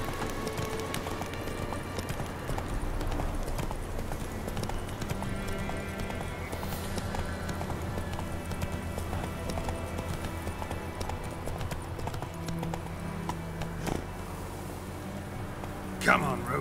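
Hooves of the horse Roach clip-clop in a steady galloping rhythm across The Witcher 3 game world, continuous and fairly close, with a snort or whinny near the end and a voice talking now and then.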